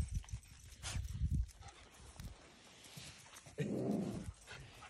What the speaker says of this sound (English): these are some happy puppies.